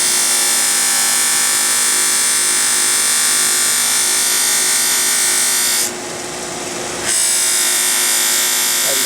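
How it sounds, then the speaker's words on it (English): A Delta 8-inch grinder fitted with a buffing wheel runs with a loud, steady electric whine, cutting out for about a second and then coming back up to speed. "I'm going to go ahead and fire up the wheel, and you can watch how fast this gets shined up"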